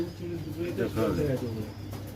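Pigeons coo softly at a pigeon farm in Nabadwip, several low murmuring calls overlapping with rustling and a voice talking nearby.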